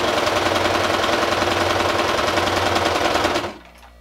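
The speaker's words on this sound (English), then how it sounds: "Put the presser foot down and press your foot pedal." A sewing machine stitches through black fabric and stabilizer in a loud, steady rapid run for several seconds, then stops abruptly, leaving a faint mechanical wind-down.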